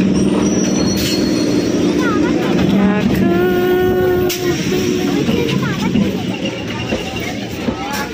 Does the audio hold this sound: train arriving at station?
yes